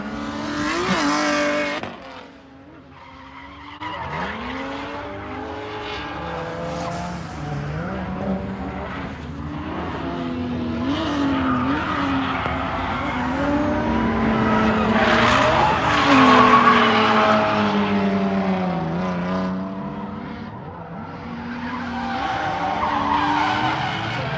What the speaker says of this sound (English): This is a 1JZ single-turbo IS300 with a cool sequential transmission.